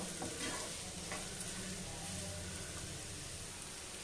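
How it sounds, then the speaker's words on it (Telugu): Bitter gourd pieces fry in a pan with a soft, even sizzle and frequent stirring scrapes, heard close but quiet and alone. "ఇవి ఒక 10 నిమిషాలు వేగాక కాకరకాయ, అప్పుడు మనం ఉల్లిపాయ ముక్కలు వేసుకుందాము"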